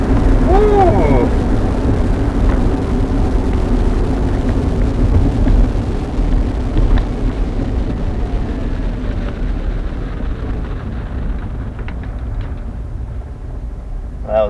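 A Rivian R1T electric pickup coasts down from its 115 mph top speed. A loud, steady roar of wind and road noise fills the cabin and eases off gradually as the truck slows.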